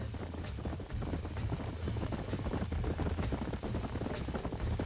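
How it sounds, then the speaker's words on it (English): Steady clip-clop of horse hooves trotting at a fast rhythm in the video game Red Dead Redemption, fairly close and continuous, with a low rumbling background throughout. "Let's see if we can track down that other herd of horses."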